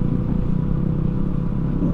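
A new motorbike ridden on a mountain road trip from Rukum Purva to Dang Tulsipur, its engine droning steadily and loudly with a constant low rumble and no voices.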